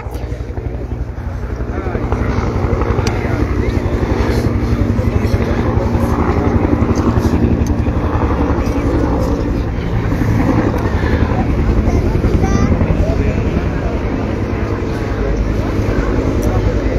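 A helicopter approaching, its heavy rotor thump and engine drone loud and steady under continuous talk, with wind buffeting the microphone.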